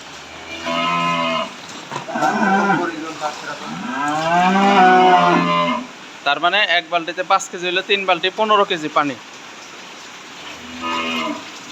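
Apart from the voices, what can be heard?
cows mooing on a cattle farm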